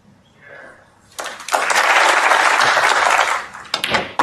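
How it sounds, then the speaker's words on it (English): Snooker crowd at a Ronnie O'Sullivan match bursts into loud cheering and sustained applause after a quiet start, the roar holding steady for a few seconds before trailing off into scattered claps. "You can hear the cheer from this crowd."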